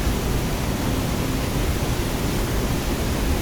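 Steady, dense rushing of a strong, fast-flowing river current on the Rubicon Trail, close and loud, a constant broadband roar with no pauses or voices.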